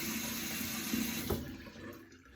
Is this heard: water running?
yes